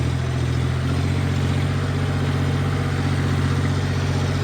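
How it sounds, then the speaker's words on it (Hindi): A John Deere tractor drives in fourth low gear during a paddy harvest. Its engine runs as a steady, loud, continuous mid-pitched rumble with a rapid even firing pulse and no talk over it. "आगे थोड़ी स्पीड में भागे ट्रैक्टर हमारा"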